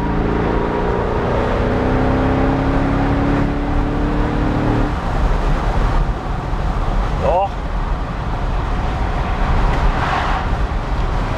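Mercedes S 63 AMG Cabrio cruises at about 110 km/h on an open road, its engine a steady loud drone with heavy wind and tyre roar as the car downshifts, while people talk inside.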